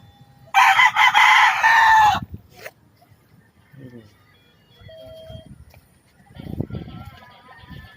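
A gamecock rooster crows loudly once nearby, followed by scattered chicken clucks and soft background noise.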